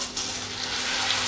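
Corn chivda dropped into hot oil for frying, a loud, dense, continuous bubbling sizzle that swells after a brief start and holds steady, close up and without speech.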